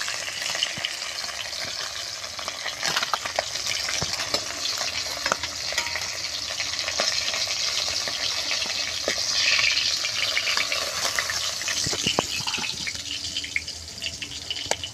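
Foli fish fry in hot oil in a village kitchen, giving a dense, close, continuous sizzle with occasional clicks from stirring or turning.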